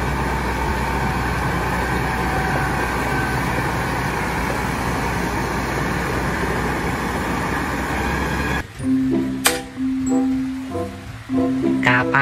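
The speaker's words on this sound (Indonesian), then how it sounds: "Mobil truk tangki." A tanker truck's engine rumbles steadily and fairly loud for about nine seconds, then cuts off abruptly and gives way to unrelated tonal sounds.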